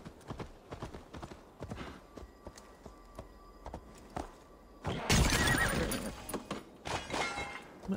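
Horse hooves clip-clop in Assassin's Creed Valhalla, a quick rhythmic gallop of sharp hoof strikes, then a louder, noisier burst midway before the hoofbeats resume.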